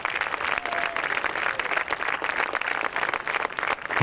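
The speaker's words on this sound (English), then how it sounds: "Let's give a big clap to all the leaders." Audience clapping for leaders at the 5th Yuva Summit 2015, a dense, loud burst of applause from a large crowd that stays steady throughout.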